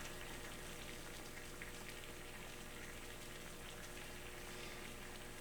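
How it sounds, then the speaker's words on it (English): Water at a hard boil on a Trangia stove, a faint, steady hiss and bubbling rush that holds evenly throughout without pause. "650 and we still got a hard boil and a good flame."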